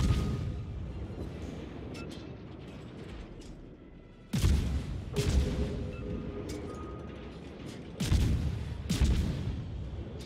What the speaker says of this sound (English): I'm shooting HE at this Yamato, trying to set it on fire